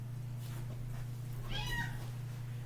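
A house cat lets out a single clear meow, close and fairly loud, over a constant low electrical hum.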